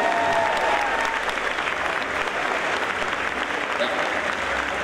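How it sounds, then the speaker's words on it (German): Sustained, even audience applause filling the room for nearly five seconds, a steady dense roar of many hands with faint crowd noise. "Bella, das ist dein Applaus, nur für dich."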